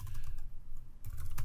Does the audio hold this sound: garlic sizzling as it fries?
no